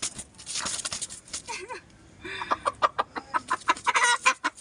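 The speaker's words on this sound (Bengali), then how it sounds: "জামাইদের স্পেশাল দেশি মুরগি" A native desi hen clucks and squawks nearby in a rapid, agitated series of short calls, loud and close, with a few quieter rustles between bursts.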